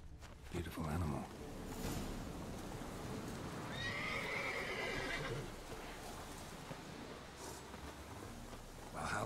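A horse in The Witcher 3 video game gives a loud whinny midway, with hoofbeats clip-clopping around it against a steady backdrop of ambient game sound.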